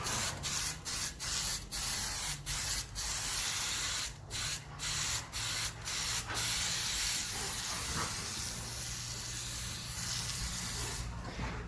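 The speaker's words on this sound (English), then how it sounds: "So I'm going to spray some onto" Repeated short bursts of aerosol paint-stripper cleaner hiss close by onto a gearbox, a quick series of sprays followed by one longer continuous spray.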